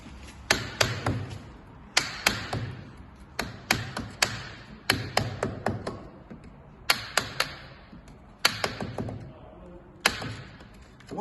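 Repeated sharp taps and scrapes as old mortar is raked out of brick joints for repointing, coming in irregular clusters of strikes with brief pauses between them, close and fairly loud.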